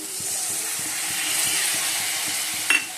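Spice paste sautés in a pan, with a steady close hiss of frying and a regular rhythmic scraping of stirring under it, ending in one brief sharp clink, and no voices.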